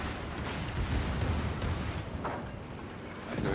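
Heavy warship main-battery broadside fire in a naval combat game, the battleship Scharnhorst, a dense rumbling barrage of booms filling the soundscape with a fresh blast near the end, no talking.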